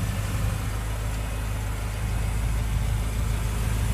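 A 2014/2015 BMW M5 (F10) idles with a steady, deep engine rumble. It is close and loud, with no change over the few seconds and no one talking.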